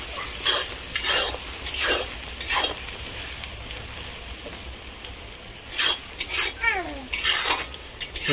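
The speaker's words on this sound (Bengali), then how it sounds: "এর পেঁয়াজটিকে সুন্দর করে লাল লাল করে প্রথমে ভেজে দেব।" Onions fry in a pan alongside bay leaves, with a continuous crackling sizzle and intermittent scrapes of a spoon against the metal. The sound is close and moderately loud, with no speech.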